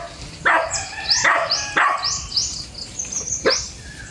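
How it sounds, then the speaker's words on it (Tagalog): Dogs bark repeatedly outdoors on a farm, five or six sharp close barks in an irregular rhythm, with faint birdsong in the background. "Ang tatapang ng asong kasama ko."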